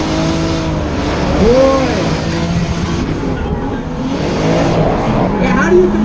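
A 2JZ-powered S14 and a 900-horsepower V8 car battle in a drift event, their engines roaring loudly and continuously at close range, with revs rising and falling and a brief shout over the noise.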